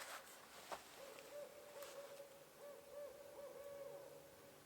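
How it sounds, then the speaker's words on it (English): An owl hooting in daytime outdoors: faint, distant repeated hoots drifting over quiet ambient noise, with a couple of soft knocks early on. "Hear the owl in the daytime?"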